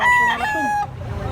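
A native chicken gives a loud, drawn-out clucking call close by, then falls quiet.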